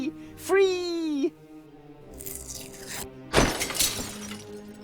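Glass shatters in the Deponia Doomsday video game as a bird flies into a stained glass window, a sudden bright crash following a cartoonish bird cry and a rushing sweep.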